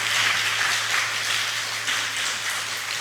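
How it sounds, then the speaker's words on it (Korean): A church congregation applauds together in steady, sustained clapping that fills the room at a moderate, even level throughout. "우리 선생님들을 향해서 우리 격려의 박수 한번 할까요?"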